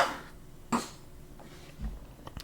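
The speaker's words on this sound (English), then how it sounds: "man, I'm about to cough again." A man coughs once, sharply and up close, with a fainter throat noise following, and no talk in between.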